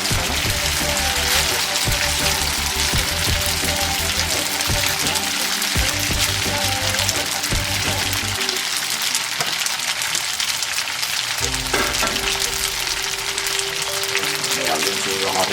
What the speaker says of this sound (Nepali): त्यही रको तेलमा हामी अब फ्राई गर्छौँ थुक्पा